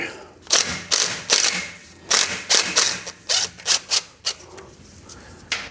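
A ratchet wrench turns out a 12 mm bolt on a 2007 Toyota Tundra, giving a series of close, crisp ratcheting bursts in irregular groups, with short pauses between strokes.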